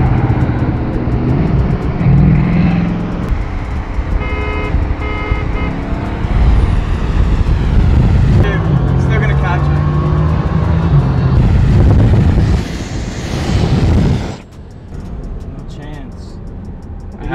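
A Tesla Model S Plaid and a Bugatti Chiron in a 60 mph roll race, with loud engine and road roar building and rising in pitch before dropping away, with people talking over it.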